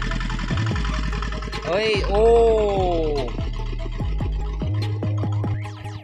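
A tractor engine in a rice paddy, with a plough attached, chugs steadily nearby, then revs up sharply for about a second before settling back into a rough, throbbing idle.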